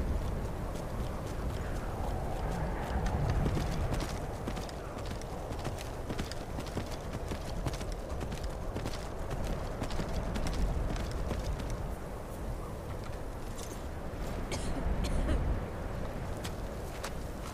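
Horse hooves clip-clop in a steady trot as a rider travels the mountain path toward High Hrothgar in Skyrim, a continuous, moderately loud gait layered over the game's ambient soundscape.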